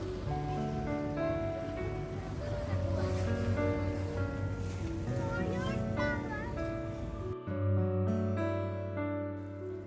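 A boat ride on open water in Ljubljana, Slovenia: wind and engine rumble with splashing waves, plus voices and music in the background, steady throughout.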